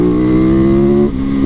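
A torquey motorcycle revving hard under acceleration, a loud, close, steady engine roar with a rising pitch that dips briefly near the end as it shifts, then climbs again.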